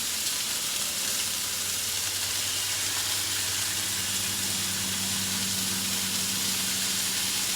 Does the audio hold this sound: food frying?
yes